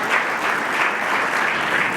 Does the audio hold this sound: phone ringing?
no